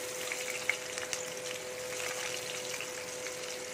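Chopped ginger and onions fry in gingelly oil, giving a soft, steady sizzle with a faint hum underneath and a couple of light clicks near the start, fairly quiet and with no speech.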